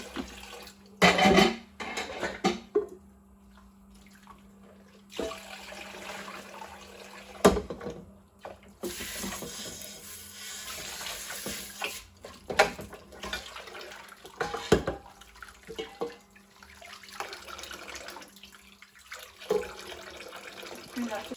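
Water from a kitchen tap gushes in intermittent bursts while dishes are rinsed one-handed in a sink, with clatter and brief pauses between runs and a person talking at times.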